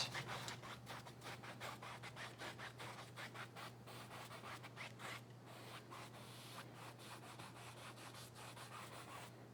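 A 1-inch brush scrubbed in quick crisscross strokes blending oil paint on canvas, a close, rhythmic dry rubbing and scratching that continues steadily throughout.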